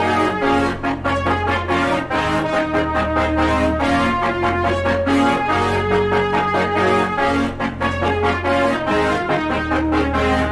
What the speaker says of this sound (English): Then we're adding one more brass melody.